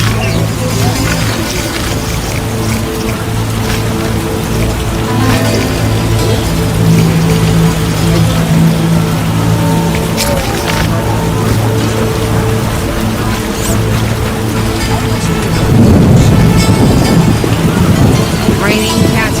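Steady heavy rain hisses over a low rumbling background in The Witcher, with a louder rolling burst near the end like distant thunder.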